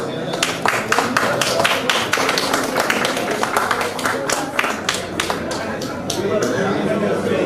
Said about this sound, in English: Give it good applause.